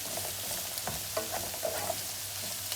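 Soft scraping and stirring of chopped vine leaves in a pan over a low steady sizzle, with a few light clinks of a utensil; no talking.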